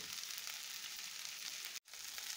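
Chorizo frying in a pan gives a continuous bright sizzle and hiss at an even level, broken by a single brief dropout near the end.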